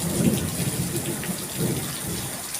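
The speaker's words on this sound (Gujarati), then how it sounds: "વરસાદ જ પડે નકરું પાણી પાણી પાણી એમ" Steady heavy rain hisses throughout, with low rumbling that suggests thunder rolling underneath, no voices, during flooding of the Ghelo river.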